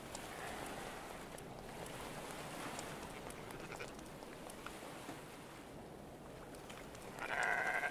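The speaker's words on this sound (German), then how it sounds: "Das ist ein Dorf, hier darf es Ziegen geben." Goats in a village setting in the video game Stormworks give faint bleats over a soft background of wind and water, with no one talking.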